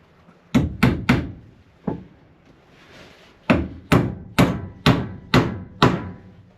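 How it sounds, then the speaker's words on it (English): A hammer drives nails into the wooden top of a portable picnic table. The blows are loud, close and thudding: a quick burst of three, a lone strike, then a steady run of about six evenly spaced hits. "let the weight of the hammer head drive the nail"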